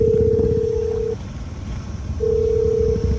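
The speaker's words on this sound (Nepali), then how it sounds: "आन्टीले फोन हान्यो" A phone rings with two long, steady electronic tones separated by a pause, over a low rumble of traffic.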